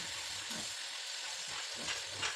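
Dried chilies frying in hot oil make a soft, continuous sizzle with faint crackling pops, steady and fairly quiet throughout the short moment.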